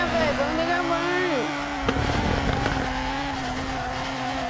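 A car in the drifting video game FR Legends revving and accelerating, engine tones sweeping up and down with tire squeal, played steadily and at a moderate level.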